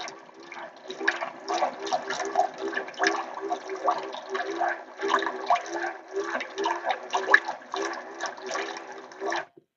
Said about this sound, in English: Yeah, it's not a smooth pump. It's getting water everywhere.